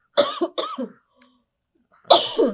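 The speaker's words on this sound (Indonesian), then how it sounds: "Batuk" A person coughs close by: two quick harsh coughs, a brief pause of near silence, then another rough cough burst.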